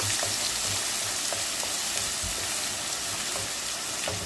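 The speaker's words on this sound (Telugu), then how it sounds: "సన్నగా తరిగి పెట్టుకున్న ఉల్లిపాయ కూడా వేయండి. పచ్చివాసన పోయేంత వరకు వేయండి." Finely chopped onions fry in a pan for a Telugu broad bean curry, giving a steady, dense sizzle with faint stirring scrapes and no talking.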